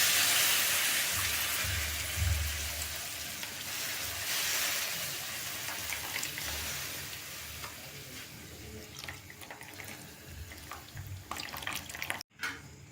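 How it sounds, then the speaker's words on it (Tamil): Tamarind water is poured into a simmering green turkey berry kuzhambu, a soft watery splashing and hissing bubble in a pan, fairly faint and continuous with small clinks near the end. "புளி கரைச்சி எடுத்து வச்சுருக்கோம். அது தேவையான கொஞ்சமாக அப்படியே ஊற்றுறோம்."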